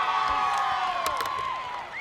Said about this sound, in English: The Warrior crowd comes alive.